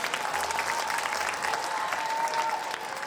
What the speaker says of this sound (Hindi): एक बार जोरदार तालियां सारे बच्चों के लिए।